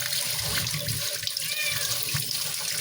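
Tap water running steadily into a sink to soak fish, a continuous close splashing flow with no voices.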